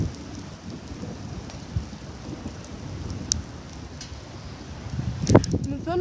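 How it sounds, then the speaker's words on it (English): Steady rain hisses throughout, with a sharp crack and rumble of thunder near the end. "It's fucking raining."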